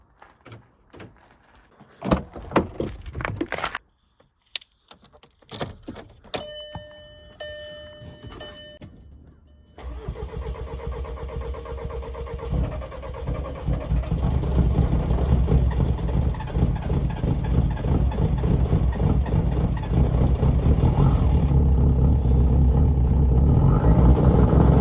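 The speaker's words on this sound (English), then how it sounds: "Cold start time." Clicks and a door thunk sound first, then a TDI diesel car starts in -6 degree cold and settles into a loud, rough, clattering idle that runs steadily and grows fuller, close by.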